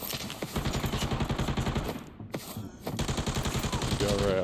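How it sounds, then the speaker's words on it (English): Rapid automatic gunfire rattles in the mobile shooter game Arena Breakout Mobile, loud, sustained bursts broken by a brief pause, then firing resumes with single sharp shots in between. "I think there's some more gunfire than would have thought to have happened"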